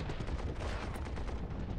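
An artillery bombardment in the World War I strategy game Commander: The Great War roars as a dense, continuous barrage of loud gunfire and blasts with no pause.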